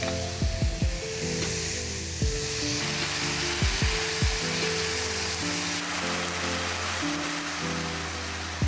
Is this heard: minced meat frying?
yes